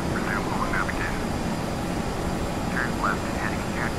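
ERJ-145 jet engines roar steadily in a flight simulator game, a constant broadband drone running the whole time beneath someone talking.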